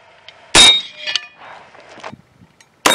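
A .50 Beowulf rifle fires at an outdoor range, blowing off its Pepper Pot muzzle brake; a sharp, loud blast with metallic ringing is followed by quieter clatter and then a second abrupt blast.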